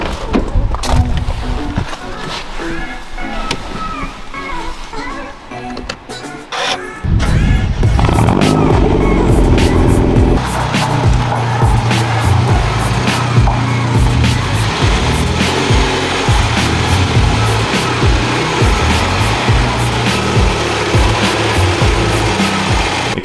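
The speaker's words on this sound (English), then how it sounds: "we're going to drive in now up onto these blocks so we get a bit more ground clearance" A BMW 1 Series F21 idles, then its engine revs up as it drives up onto wooden blocks, moving from quieter rattling to a loud, sustained hum close by.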